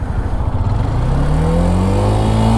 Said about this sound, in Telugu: ఎగ్జాస్ట్ నోట్ అయితే ఇలాగైతే ఉంది